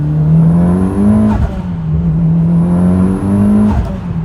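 A Mitsubishi EVO or Mustang engine revs hard and climbs in pitch, shifts, then pulls up again with a loud rising whine. Close and steady throughout.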